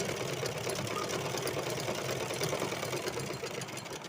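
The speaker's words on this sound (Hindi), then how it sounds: "इसको यहाँ ऊपर तक हमें सिल कर लाना है। सिलाई को लॉक करके जाना" A sewing machine runs steadily as kaliyon panels are stitched up a seam for a small Kanha ji doll dress, a continuous close whirring hum with fine rapid needle chatter and no voices.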